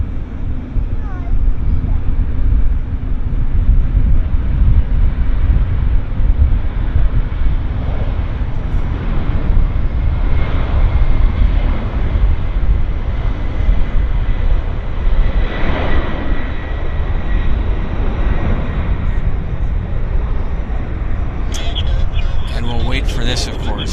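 A heavy jet airliner at Vancouver airport, a loud, steady low rumble of engines that holds for the whole stretch, with brief clicks and higher hiss near the end.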